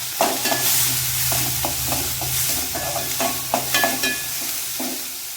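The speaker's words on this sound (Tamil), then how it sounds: "இப்போ வந்து வெங்காயம் கருவேப்பிலை வரமிளகா இது மூணும் போட்டு நல்லா ஃப்ரை பண்ணிக்கலாம்" Onion, curry leaves and dried red chillies fry in hot oil with a dense, steady sizzle, while a spoon stirs and scrapes the pan in regular strokes, close and continuous, no talking.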